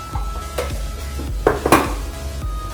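Fenugreek seeds dry-roast in a small pan, a spoon scraping and clinking against the metal in a few irregular strokes, close and fairly loud.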